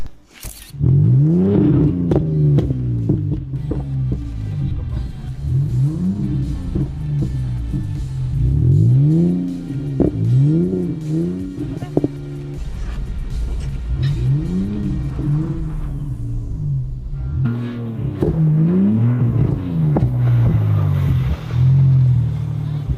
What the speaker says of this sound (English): he just can't resist drifting a little in the snow again